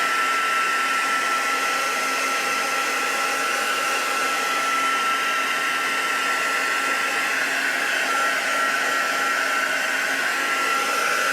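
A heat tool blows hot air over craft card for robot-themed cards, a loud, steady, close whirring hiss that runs unbroken throughout with no talking.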